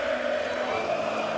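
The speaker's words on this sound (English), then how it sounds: "This crowd is certainly into this game" Basketball arena crowd at a Spain versus Bosnia and Herzegovina game, a steady dense roar of cheering voices that holds evenly loud across the moment.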